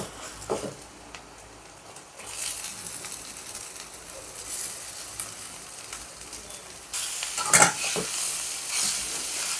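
Amla (Indian gooseberry) goes into hot oil and is stirred for gooseberry rice, a steady close sizzle with soft scraping stirs and a sharper burst of frying near the end, no talk.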